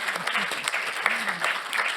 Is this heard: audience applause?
yes